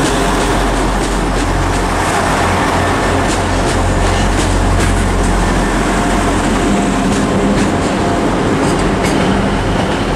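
A Northern Class 150 diesel train departs Manchester Piccadilly on the West Coast Main Line, a loud, close, unbroken rumble of engine and rolling wheels with light rhythmic clicking over the rails.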